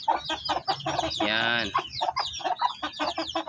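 A brooding hen clucks and squawks in short bursts, with one longer harmonic call in the middle, close by, while a person speaks briefly.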